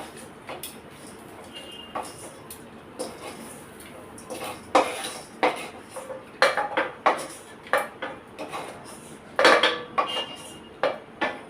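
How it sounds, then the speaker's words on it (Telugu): A spoon clinks and scrapes against metal while fried brinjal chutney mixture is moved from a pan into a mixer-grinder jar, giving a run of sharp, irregular clatters that grow busier toward the end, close by with no talking. "స్టవ్ ఆఫ్ చేసేసి ఇది మనం మిక్సీ పట్టుకోవాలి మిక్సీ జార్లోకి తీసేసుకుందాం"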